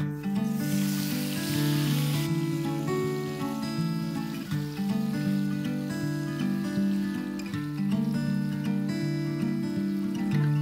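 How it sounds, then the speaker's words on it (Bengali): Paneer fries in hot oil seasoned with Kashmiri chilli powder and salt, giving a steady, close sizzle that runs without a break alongside a sustained tonal background, with no talking. "এবার এর মধ্যে পনিরগুলো দিয়ে দেব, দিয়ে ভেজে নেব"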